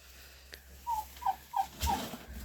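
Four short domestic turkey gobbles in quick succession in a farmyard, fairly close but soft, over a quiet background.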